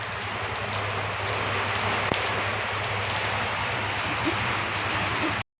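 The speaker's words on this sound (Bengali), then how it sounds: "এই দেখো বৃষ্টি হচ্ছে" Steady, dense rain pours down outdoors on an early morning, a continuous close hiss that never lets up for the whole stretch, with a faint low hum running underneath.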